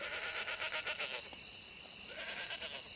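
Goats in a herd bleating, repeated wavering calls in a quick irregular rhythm that fades midway and then resumes, fairly close and clear with no talk over them.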